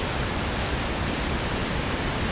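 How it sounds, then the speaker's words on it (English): Steady broadband rain hiss from the Fernbus Simulator bus game, a continuous even wash of falling rain with no talk over it. "It just started to rain."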